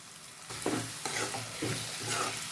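Prawns with tomato and ginger-garlic paste frying in a pan for a cucumber prawn curry, a steady sizzle with a few scraping stirs of a spoon, close but fairly soft.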